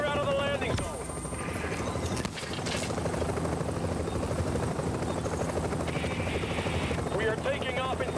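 Evacuation helicopter at a landing zone in the video game The Division, a steady loud rotor drone filling the whole clip, with radio-style voice chatter laid over it.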